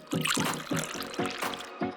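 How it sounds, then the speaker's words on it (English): Water poured into plastic popsicle molds in a series of quick, evenly spaced splashy bursts, loud and close, with a steady trickling hiss between pours. "Fill the molds with water."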